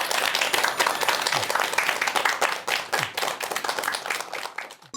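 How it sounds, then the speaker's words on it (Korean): A lecture audience claps together, a close burst of individual hand claps with an uneven rhythm that thins out toward the end. "여러분 큰 박수 부탁드리겠습니다."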